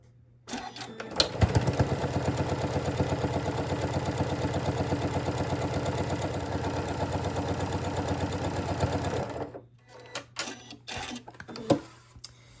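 Sewing machine topstitching along an open seam to close a fabric strap: one long, steady run of fast rhythmic stitching lasting about eight seconds, then stopping and followed by a few handling clicks and rustles.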